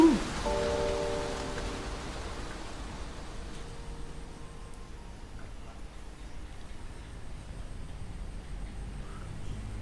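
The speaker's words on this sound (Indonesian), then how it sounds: "Air hujan kesedihan pun melanda Fontaine." Steady rain falling in a Fontaine scene of the Genshin Impact video game, a constant hiss after a brief louder onset, with faint tones in the background.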